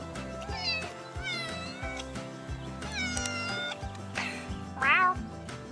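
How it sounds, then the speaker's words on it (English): Several cats meow on a street in Guadalajara, Mexico, with rising, wavering cries that come in short bursts over a busy, noisy background. The loudest yowl arrives near the end. "I think I got those some cats on film."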